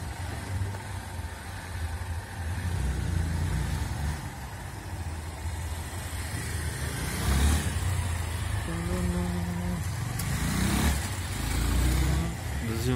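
A motorcycle engine during a practical driving school lesson, running at a low, steady rumble that swells as the rider accelerates, then eases off through gear changes. It is moderately close, with faint outdoor background noise.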